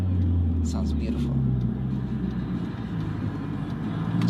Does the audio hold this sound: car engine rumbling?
yes